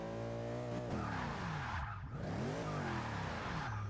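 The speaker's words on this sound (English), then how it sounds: "let's try to do a burnout or something" A 2014 Range Rover in the Forza 6 racing game does a burnout, its tires screeching in a loud, harsh squeal over a wavering engine tone that briefly dips and rises again. No one talks.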